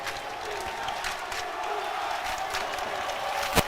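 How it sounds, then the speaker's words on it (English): A college basketball crowd cheers in the Max Stern Athletic Center as fans rise to their feet, a steady, loud roar of voices and whoops filling the arena, with one sharp bang near the end. "this crowd is back into it. Everyone on their feet in the Max Stern Athletic Center."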